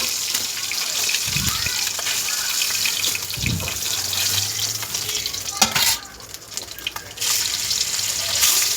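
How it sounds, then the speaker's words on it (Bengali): Fish pieces fry in hot oil with a loud, constant crackling sizzle and a few sharp stirring knocks. The hiss drops briefly near the end and then comes back. "মাছগুলোকে আমি ভালো করে ভেজে তুলে নিচ্ছি"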